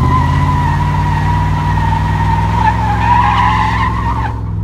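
A Nissan 240SX doing a burnout: loud, sustained tire skid with a steady screech and engine roar throughout, rising slightly near the end before cutting off abruptly.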